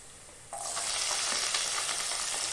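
Onion drops into hot oil with ginger for a soya roast, the sizzle jumping abruptly louder and then holding as a bright, dense, close hiss with faint stirring.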